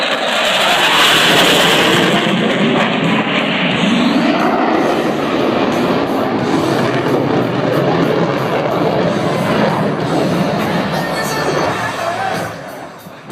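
An F/A-18 Hornet jet flies a carrier-style landing approach at the EAA 2012 airshow, a loud, sustained broadband roar that holds steady for over ten seconds before easing off at the end.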